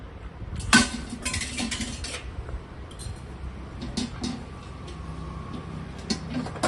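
Bowl drum and beater being taken off a bakery planetary cream mixer: scattered metallic clanks and clicks, loudest at the start and then softer knocks and rattles over a low steady background, close by and with no voices.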